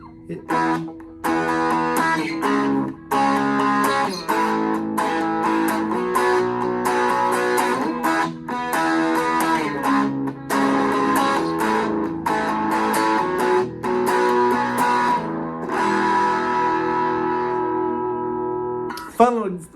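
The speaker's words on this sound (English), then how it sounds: "when I play electric, I usually have that distortion" A Glarry GST electric guitar with heavy distortion plays a steady strummed rhythm, loud and close, with chords ringing out and brief pauses between phrases.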